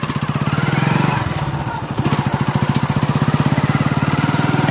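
A vehicle engine starts and runs steadily with a close, even rhythmic chug, briefly uneven near the start before settling into a continuous idle-like putter.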